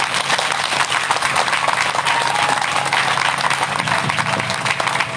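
Loud, sustained clapping from a church congregation during a Sunday sermon, a dense continuous patter of many hands filling the whole stretch with no break.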